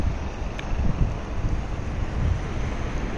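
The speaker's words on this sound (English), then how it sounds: "And I apologize for the wind, if you can hear the wind." Strong wind blows steadily across an ocean-front beach at a Myrtle Beach, South Carolina campground, a loud broadband rush with gusting rumble buffeting the microphone, waves and surf mixed faintly beneath it.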